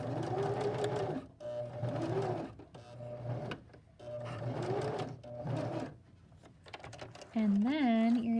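Sewing machine stitching over folded fabric and seam allowance in repeated whirring runs with brief pauses, fairly close, with a voice speaking near the end.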